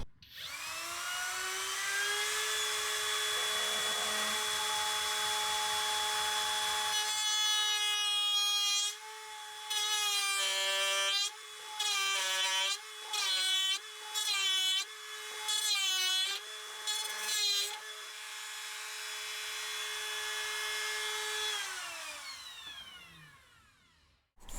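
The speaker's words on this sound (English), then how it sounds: "I have to use this router bit, and I have to use this with my small router" A small router with a router bit rounds over the edge of a wooden DIY bed frame: a loud, steady high-pitched whine runs continuously, broken midway by a series of short bursts as the cut starts and stops, then spins down at the end.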